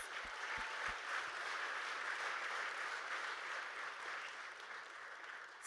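Audience applause welcoming three panelists at a Canadian startup unicorn panel event, steady broad clapping filling the room for several seconds with no speech over it.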